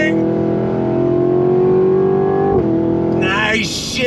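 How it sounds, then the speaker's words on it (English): A 2023 Cadillac Escalade-V SUV with an LT4 engine launching under full throttle with launch control, a loud close rising engine roar that pulls up through the revs, dips at a shift and climbs again, heard from inside with a voice over it. "You ready to go on throttle? Here we go, on throttle! Love the launch control in this thing."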